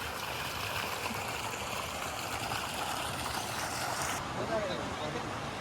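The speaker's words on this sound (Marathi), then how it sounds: "मस्त नदी आहे" Water flows and trickles steadily along a constructed river channel by a waterfall spot in Pali, a continuous moderate rush that stays steady throughout.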